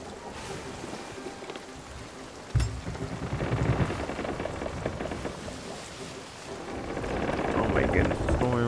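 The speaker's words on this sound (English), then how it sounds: "Oh my goodness, the storm just be sitting there." Video game thunderstorm: steady rain hisses while a sharp thunder crack hits partway through and rumbles on, with the downpour swelling louder toward the end, and a voice talks over it.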